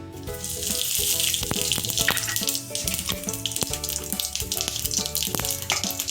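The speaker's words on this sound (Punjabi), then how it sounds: "ਪਰੌਂਠਿਆਂ ਵਿੱਚ ਸਵਾਦ ਲਿਆਉਣ ਲਈ ਅਸੀਂ ਪਾ ਦਾਂਗੇ ਥੋੜਾ ਜਿਹਾ ਜੀਰਾ" Cumin seeds frying for a paratha filling of boiled potato, green chillies, onion and coriander, giving a steady close sizzle with water-like hiss and occasional clinks throughout, no talking.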